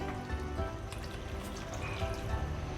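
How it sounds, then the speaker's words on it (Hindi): Water poured into a pan of keema simmering for a karela (bitter gourd) keema dish, a steady close trickle and splash of liquid running continuously with no talk. "बाकी हम डालते हैं इसमें पानी ताकि कीमा गल जाए।"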